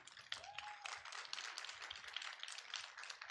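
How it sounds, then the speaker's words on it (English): A small audience at a talk on measuring developer productivity claps steadily for about three seconds, a dense patter of hands fairly close and even throughout, without talk over it. "Round of applause, please."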